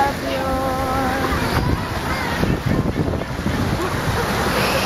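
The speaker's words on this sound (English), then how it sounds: "wait for it, the big splash" Ocean waves surge and splash against rocks at Laguna Beach in a steady, loud wash of surf, with wind buffeting the microphone and a faint voice briefly audible beneath the roar.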